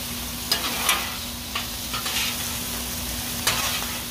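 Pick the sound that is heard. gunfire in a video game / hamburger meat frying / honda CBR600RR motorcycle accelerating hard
hamburger meat frying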